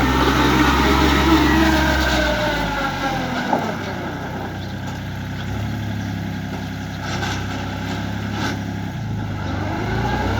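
A Yanmar EF352T tractor engine runs steadily nearby with a slight whine from age and wear, a continuous mid-pitched diesel hum that dips briefly and then holds.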